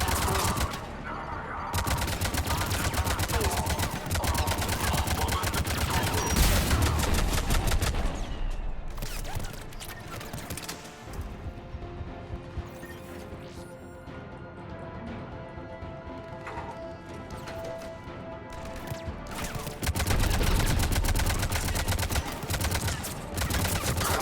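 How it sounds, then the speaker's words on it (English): Mass Effect 3 combat: dense, rapid gunfire and heavy cannon fire crackle and thump continuously, loud and busy throughout, easing somewhat in the middle before surging again. "The cannon fire is clearing the way."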